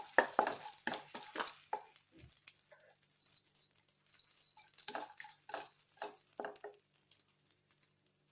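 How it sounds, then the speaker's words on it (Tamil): A few cloves and a small piece of cinnamon fry in oil for paneer tikka masala, giving a quiet, faint sizzle broken by intermittent scraping stirs and light utensil clatter, with quieter gaps between bursts. "கிராம்பு ஒரு 5-6 கிராம்பு, சின்ன துண்டு பட்டை. இது கொஞ்சம் பொரியட்டும்."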